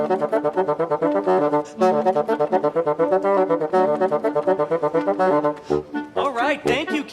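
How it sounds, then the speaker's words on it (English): A melody played on a bassoon, a run of distinct reedy notes in a steady, rhythmic line, close and prominent, ending in a brief trailing squeak with no talking over it. "Here's what a melody sounds like."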